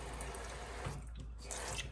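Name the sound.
water poured into Pyrex container with artichokes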